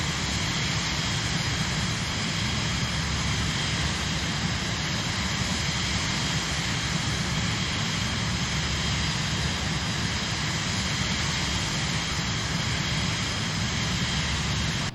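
Steady broadband engine roar of a Cirrus Vision Jet G2 in Microsoft Flight Simulator, a constant even whoosh and hum held at low volume throughout with no change.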